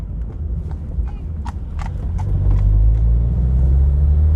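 A few sharp horse hoof clops on pavement ring out over the steady rumble of a Citroën AX 11TZX engine that grows louder.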